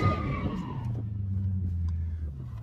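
A Dodge Challenger Hellcat slides with its tires skidding, giving a loud rising squeal over the car's deep engine. The squeal fades after about a second, leaving a steady low rumble close by.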